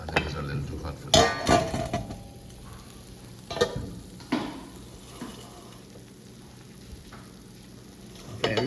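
Food sizzling in a hot frying pan in a home kitchen during breakfast, with clattering pans and utensils in sharp, loud knocks over a soft background hiss.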